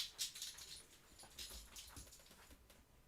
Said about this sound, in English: That was Zelda, that was my dog.